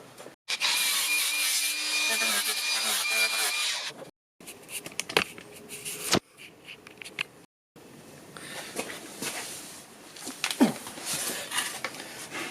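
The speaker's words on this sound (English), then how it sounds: "Let's see if I can slice some little bits" A power cutting tool slicing small pieces off a fibreglass arch, a loud gritty buzzing burst at first, then stop-start scraping and rasping cuts with short pauses between them.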